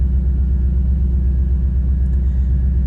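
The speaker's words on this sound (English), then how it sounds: "as you can see, the car jolted and we're reversing" A steady, low engine rumble from a nearby F-body car with a trans brake, reversing after a jolt, continuous and even throughout, with no voices.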